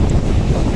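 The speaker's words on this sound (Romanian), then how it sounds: "Este frig, bate vântul." Strong wind on the Black Sea coast during a storm buffets the microphone in a continuous low rumble, with a faint wash of surf behind it.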